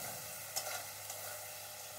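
Fried potatoes sizzling in oil with spice paste in a pan, a steady soft hiss with a couple of faint pops, fairly quiet.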